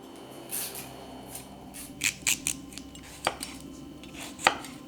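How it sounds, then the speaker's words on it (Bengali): A knife chopping through a ripe pumpkin on a board, a few separate sharp cuts at uneven intervals, close and fairly quiet. "একটি পাকা মিষ্টি কুমড়ো নিয়েছি, সেটাকে এভাবে কেটে নিচ্ছি"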